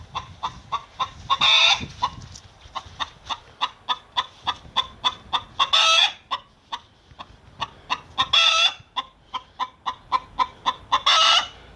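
Chickens in a coop cluck in a rapid, steady stream of short calls, with several louder, longer squawking bursts breaking in between, close and busy with no voices.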